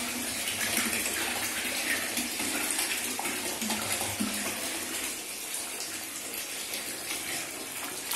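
A full can of bath product poured into very hot bath water in a hotel hot-spring tub, heard as a continuous soft gushing and splashing wash of water at moderate distance, with no talk.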